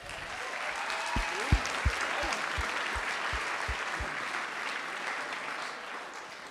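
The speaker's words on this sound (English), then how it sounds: "I think they deserve a round of applause for that" Wedding guests at the couple's speeches break into steady, sustained applause, a dense wash of clapping from a sizeable crowd that lasts throughout, with a few sharper claps and low thumps standing out.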